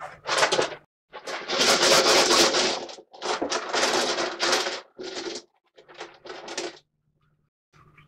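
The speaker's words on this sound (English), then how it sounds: "Now I need some dice." Several dice rattle and clatter across a hard wooden surface in bursts of tumbling clicks, with short pauses between rolls, close and fairly loud with no talk over them.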